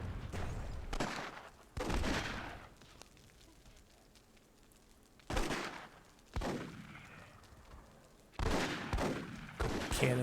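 Repeated bursts of gunfire and grenade explosions in the fantasy strategy game Myth II Soulblighter, loud blasts arriving in clusters with quieter rumbling gaps between them.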